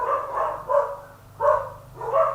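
Several dogs bark in three or four separate bursts at moderate distance, each lasting a fraction of a second, over a steady low background hum.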